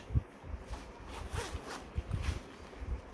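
Zipper on a TravelXOXO utility pouch being worked in short bursts, several brief scratchy pulls with small taps and handling noises between them, close up and fairly quiet.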